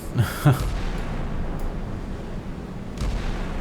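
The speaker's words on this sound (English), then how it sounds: "So the other PT-6 was hit by some gunfire" Naval gunfire in the Sea Power naval combat game: a couple of sharp, booming shots near the start followed by a low rumbling ambience and a fainter distant report near the end.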